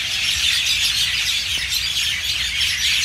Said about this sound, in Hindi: ये ऊपर सारे यहाँ पे पेड़ पे सारे पक्षी हैं यहाँ पे, बहुत अच्छी आवाज़ आ रही